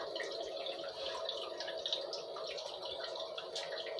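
Continuous water flow through a Livpure purifier's post-carbon filter during forward flushing, an even, moderately quiet hissing stream with faint dripping texture and no talk.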